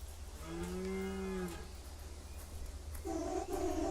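Cows lowing in a rural village, a long drawn-out moo followed later by a shorter second call, heard close over a steady low background hum.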